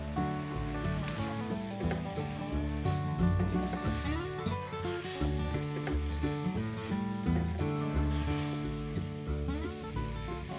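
A sauce with brown sugar sizzles and is stirred in a pan for a noodle dish. The steady frying hiss lies under prominent background music that plays throughout.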